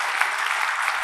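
A brief, dense burst of audience clapping at a motivational talk in Jaipur, a steady crackling wash of many hands with no voices.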